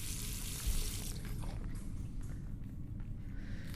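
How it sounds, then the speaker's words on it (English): Running water rinses a plate in the adventure game The Last Door, a steady close wash that flows continuously with faint clinks and movement, no voices. "All that remains is to rinse the plate."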